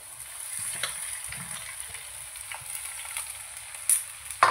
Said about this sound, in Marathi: आता मी त्याच्यामध्ये ही बारीक चिरलेली भोपळा मिरची टाकते. ती पण मी शिजवून घेणार आहे.